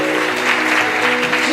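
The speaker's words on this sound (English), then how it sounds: "If you want to clap." A church congregation claps during a worship service, a dense, steady patter of many hands filling the room, with sustained tones from music or voices lingering underneath.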